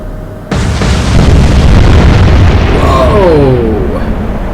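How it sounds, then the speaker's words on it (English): A ship's magazine detonates in the naval video game Atlantic Fleet, a sudden massive boom followed by a long rumbling roar, with a whistling, wavering tone rising over the blast's tail. "Magazine detonation."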